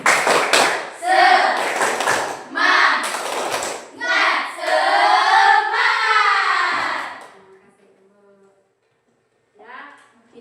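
An Indonesian classroom group performs a clap chant, children's voices chanting loudly in bursts punctuated by rhythmic hand claps, then falling into a brief quiet before a short final burst of sound.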